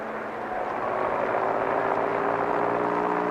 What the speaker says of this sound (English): As his helicopter lifted off Whiskeytown Dam, climbed over Whiskeytown Lake